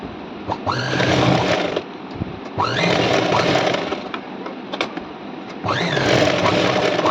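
A sewing machine stitches tucks and edge seams on a blouse, running in three long loud bursts with a rising motor whine at each start and short pauses between.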